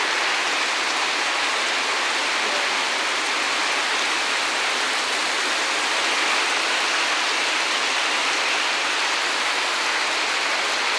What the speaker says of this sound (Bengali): এত পরিমাণে বৃষ্টি হচ্ছে তা বলে বোঝানো যাবে না।